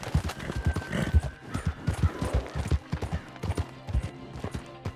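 Horse hooves clip-clop steadily in Red Dead Redemption 2, a close, rhythmic run of hoofbeats that continues throughout with a faint whinny in the mix.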